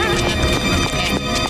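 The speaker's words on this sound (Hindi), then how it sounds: "मोटू, ये बताओ कि तुम्हारे घोड़े को टांगे में कैसे लगाते हैं?" A cartoon horse whinnies shrilly while hooves clip-clop in a quick, rhythmic trot, loud and close, with a voice briefly overlapping.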